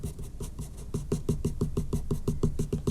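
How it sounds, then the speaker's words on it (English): Pencil dabbing flat-side on paper while shading a portrait near the lip: a steady, fast series of soft close taps, about six per second, even and continuous for three seconds. "And you can hear me just dabbing the pencil."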